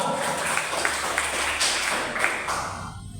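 A classroom of students claps together during a lesson, a busy patter of many hands held for about three seconds before fading out.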